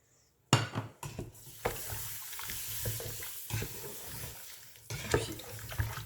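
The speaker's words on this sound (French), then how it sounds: "Puis on va mélanger bien." Flour is stirred into beef bourguignon in a pot, giving close, irregular scraping and wet stirring strokes, with a soft simmering sizzle between them and no talking.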